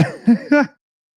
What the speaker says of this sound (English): it was a tickled giggle that sent me into a cough because of the puff